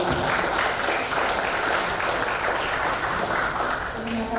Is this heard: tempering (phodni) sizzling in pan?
no